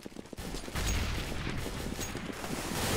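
AK rifle fire in Counter-Strike on the map Nuke, starting with a few sparse shots and then rising into a loud, rapid, continuous spray of automatic shots.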